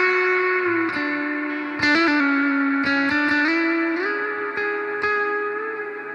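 An electric guitar runs through a BOSS GT-1000 modeling a Fender Deluxe Reverb with clean boost and a fully extended hall reverb. Sustained notes and chords ring out steadily, each attack trailing into a long wash of reverb, with no voice.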